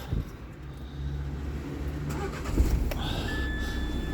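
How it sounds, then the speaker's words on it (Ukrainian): A 2015 Renault Kangoo 1.5 dCi diesel engine cranks quickly and turns over, then settles into a steady idle, recorded close by without talk. "Стартер так швидко крутить"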